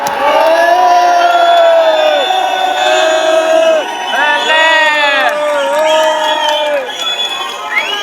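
Large festival crowd at Sidi Habba cheering, shouting and whooping continuously, a dense roar of many voices close around with rising yells throughout.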